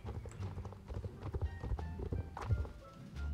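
Rapid clip-clop of a horse's hooves galloping in the Star Stable Online video game, steady rhythmic thuds close up with a faint neigh, no speech over it.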